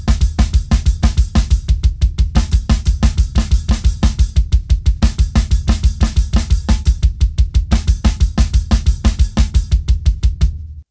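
A drum kit plays a bomb blast beat exercise with the hands on 16th notes, a rapid, even stream of hits that stays loud, close and constant for about ten seconds, with no voice over it.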